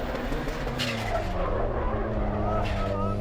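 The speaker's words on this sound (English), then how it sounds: "Mike really putting his foot down now as he launches for that intersection" A race car accelerates hard toward an intersection, its engine droning and rising over skidding tire noise, with a commentator talking over the roar.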